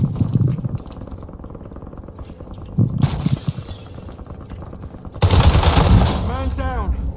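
Loud, dense bursts of gunfire in the video game Warzone, with rapid automatic shots, glassy crashes and swelling explosions, layered under game voices.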